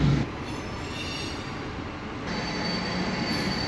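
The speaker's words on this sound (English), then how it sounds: "that train I just caught crossing the road" A train crosses a road in Massachusetts, a steady close rumble of rolling cars with a high sustained wheel squeal throughout.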